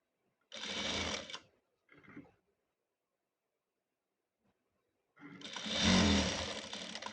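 An electric sewing machine stitches a kurti in two runs, a short whirring burst, a brief stutter, then a long steady run after a silent pause, close and clear.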